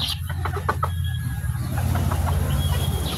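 Backyard-farm chickens cluck in short bursts over a steady low engine hum, with a faint high squeak or two nearby.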